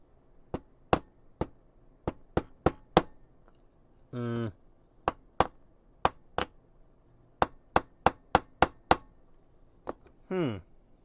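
Sharp metallic hammer strikes on a 1/8 scale Willys Jeep model engine block, in quick irregular bursts, loud and close, with two brief squeaky scraping noises between the groups of blows.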